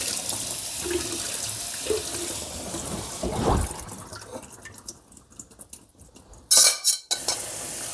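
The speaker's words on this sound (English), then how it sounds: "let me go ahead and get this rice rinsed and cooking." Rice rinsed under a running kitchen tap, with water splashing and grains swishing in a bowl, a steady close wash broken by a brief louder burst of flowing water near the end.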